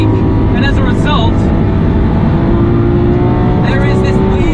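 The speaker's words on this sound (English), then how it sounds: "every now and again we get this squealing sound" Lamborghini Aventador SVJ lapping a relaid race track with an oily surface, loud continuous engine roar with brief tyre squeals near the start and again near the end.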